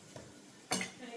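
Dishes being set out on a table, a sharp clatter of plates or cutlery landing together in one brief close burst after quiet household background.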